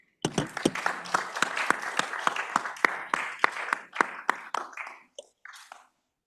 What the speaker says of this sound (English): I think we can applaud them again.